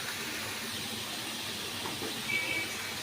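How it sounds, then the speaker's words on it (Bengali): Dried loitta fish (shutki) frying in a pan on a gas stove gives a steady, close, broadband sizzling hiss that continues unbroken throughout. "আর এইদিকে আমার শুটকি ভাজা ভাজা হচ্ছে।"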